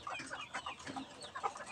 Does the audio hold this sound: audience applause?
no